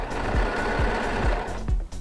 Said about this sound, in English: Use the serger to trim off the edges and secure the elastic to the fabric.